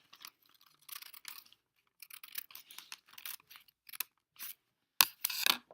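Scissors snip through paper at close range, short crisp cutting strokes in uneven bursts with brief pauses, ending in a louder final run of snips.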